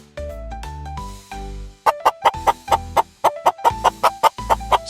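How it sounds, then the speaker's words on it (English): A chicken clucking up close in a children's farm animal names set, with a few drawn-out tonal calls followed by a quick run of short, evenly spaced clucks, loud and clear with no talking over them. "Chicken."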